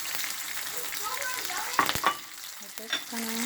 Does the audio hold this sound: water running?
no